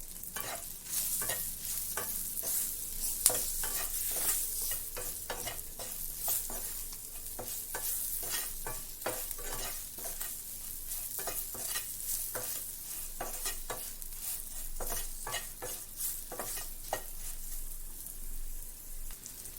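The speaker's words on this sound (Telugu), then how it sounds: "ఇలా పౌడర్స్ అన్ని వేసాక బాగా మిక్స్ చేసుకుందాం." Green chillies fry with spice powders in a pan as a spoon stirs them, giving repeated scraping strokes in an uneven rhythm over a light sizzle, close and moderately quiet, with no voices.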